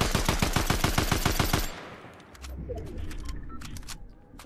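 Rapid automatic gunfire rattles in a video game, about a dozen evenly spaced loud shots in a quick burst, then scattered quieter clicks and faint background noise.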